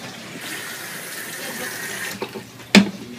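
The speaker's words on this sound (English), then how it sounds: "We're going to put just enough water in here." Water runs steadily from a tap into a cooking pot of browning onions for homemade bean soup, a continuous close splashing stream that ends with a brief clunk.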